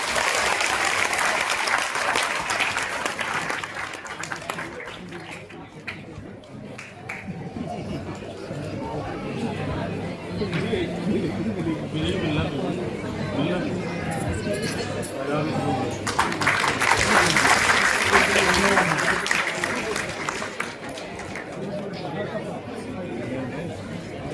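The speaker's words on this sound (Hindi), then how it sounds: "भाई अपने साथियों के लिए तालियां बजती रहनी चाहिए।" Applause and steady crowd chatter fill a council hall during a retirement farewell for colleagues, rising into a fuller burst of clapping near the end while voices talk over it.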